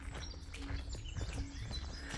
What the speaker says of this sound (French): je sais pas si vous entendez les petits oiseaux